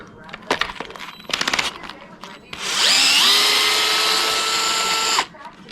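A power drill drives screws on a Traxxas X-Maxx radio-control truck, with a few short bursts and then a long, loud whirring run that climbs in pitch before cutting off, close by and free of talk.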